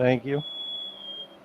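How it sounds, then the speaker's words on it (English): A low fuel alarm in the iRacing video game, in a Dallara race car, sounds as a steady high-pitched electronic tone that holds for about a second just after a brief spoken word. "You can hear the low fuel alarm going nuts in the background."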